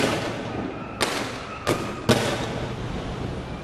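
Police firing tear gas, rubber bullets and explosives at protesters in Brazil, three sharp distant bangs spaced about half a second apart over a steady background crowd rumble.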